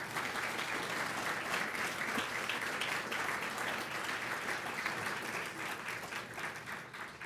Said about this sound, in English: please give applause to Adrian Basora, Una Bergman, Maya Otarashvili, and Reggie Kramer